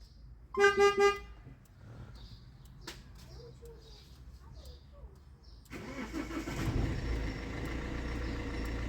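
A car starting remotely through a voice-command keyless start system: a short electronic chime and tone, a quiet pause, then the engine cranking and settling into a steady idle nearby.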